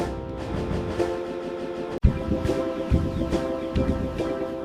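A train rumbles steadily along with a continuous low roar, a sharp break in the middle, then rolling clatter and mechanical hum resume.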